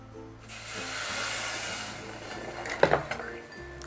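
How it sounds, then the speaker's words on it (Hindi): One cup of water is poured onto two cups of sugar in a pan to make syrup for mawa gujiya, giving a steady soft rushing hiss for about two seconds, then a few small clinks. "इसके अंदर हम 1 कप पानी डालेंगे"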